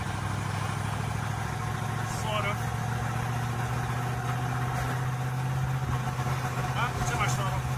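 A Land Rover twin turbo V8 ute engine runs with a steady low, close rumble and no clear change in revs, while a person talks over it.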